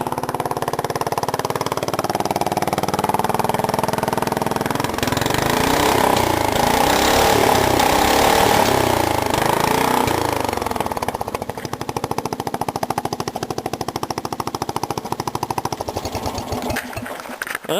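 A racing lawnmower engine running cold, a loud close buzzing drone that swells in the middle and then turns rougher and choppier toward the end, with no talk over it.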